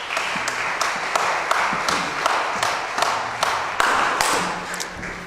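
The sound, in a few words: audience applause for a choir soloist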